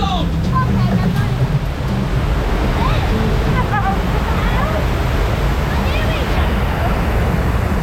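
Water splashing and rushing on the River Rapids ride at Alton Towers, a loud continuous wash of churning water and spray close by with wind buffeting, while people talk and exclaim over it.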